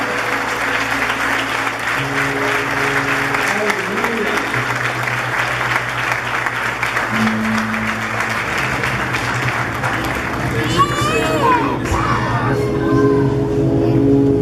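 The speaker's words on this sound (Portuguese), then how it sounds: "Dê um aplauso a Ele." A church congregation applauds in a sustained wash of clapping mixed with cheers and whoops, with a voice speaking over it and sustained tones underneath, fairly loud throughout.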